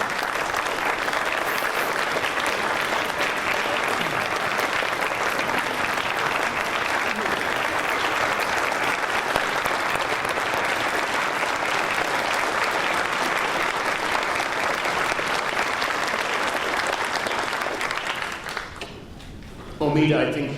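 Sustained, loud audience applause fills a conference hall, a dense steady roar of clapping lasting about eighteen seconds before dying away quickly, followed by a brief voice at the very end.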